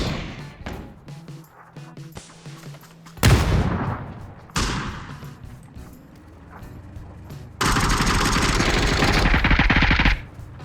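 Automatic weapon fire aimed at the player in the battle royale game PUBG, loud close bursts of rapid shots in several long volleys with mechanical clatter between them, no speech.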